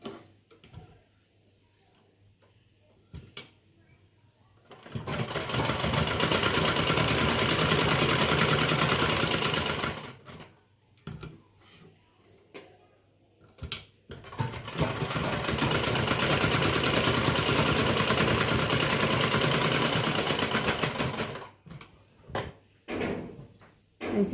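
Sewing machine stitching a blouse, running in two long steady bursts of dense mechanical whirring and clatter, close and loud, separated by a quiet stretch with light handling knocks and clicks before, between and after.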